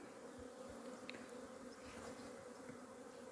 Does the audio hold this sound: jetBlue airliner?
no